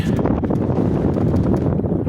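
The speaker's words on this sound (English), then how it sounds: "sorry about the wind." Strong wind buffets the microphone outdoors at a cabin building site in a constant low rumble, loud and close, with gusty roars and no other clear sounds.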